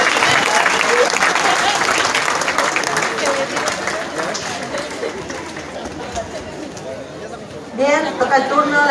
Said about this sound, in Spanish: ¡Fuertes sus aplausos!